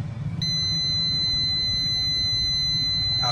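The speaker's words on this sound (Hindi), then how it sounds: "बीप का साउंड आने लगा" A car sensor tester emits a steady, loud electronic beep when two wires are shorted together, holding one continuous tone for about three seconds.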